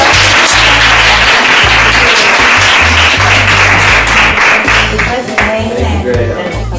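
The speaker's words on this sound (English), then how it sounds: "shall we give them a round of applause?" An audience at a guest speaker's talk applauds loudly and continuously, the clapping heard over music with a steady bass line playing underneath.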